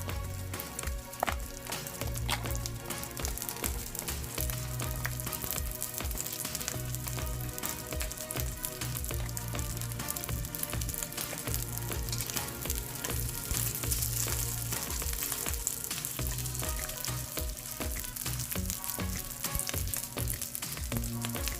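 Leftover cold rice frying in a pan for a homemade silog meal, a quiet, continuous sizzle with occasional stirring scrapes, close and steady with no talk.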